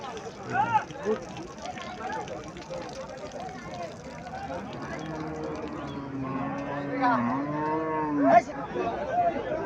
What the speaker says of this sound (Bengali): এখানে আরেকটা গাভী দেখা যাচ্ছে, দেশি গাভী